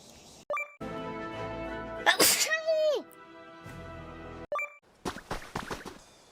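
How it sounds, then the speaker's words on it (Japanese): A single loud, voiced sneeze bursts out near the middle, framed by short vocal sounds and a brief chime-like tone before and after. "ちょっと待って、くしゃみ。"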